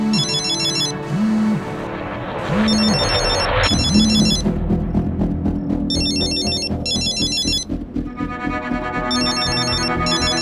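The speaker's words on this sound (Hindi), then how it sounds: "ये किसका मोबाइल बजा?" A mobile phone rings with a bright electronic ringtone, its repeating melodic chirps recurring across the clip over a dramatic low background score in a horror TV serial scene.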